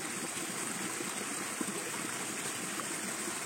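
Tap water runs steadily while capsicum, tomato and onion are washed, a continuous close hiss and splash with no voices.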